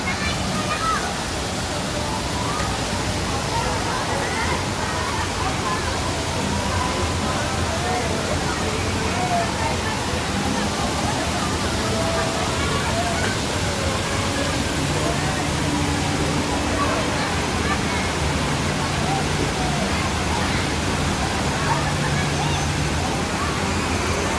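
Water of the Tala River rushes in a continuous, loud broadband roar throughout, with faint voices mixed in under the steady flow.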